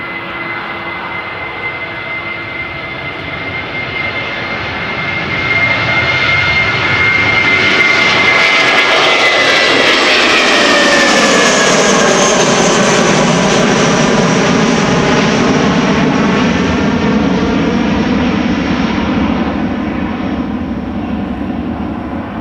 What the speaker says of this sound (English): Next up, A319 to London Heathrow